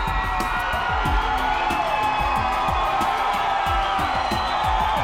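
A fight-night crowd at a Salt Lake City combat sports event roars and cheers loudly and continuously, with scattered whoops and shouts rising over a dense, steady wall of voices.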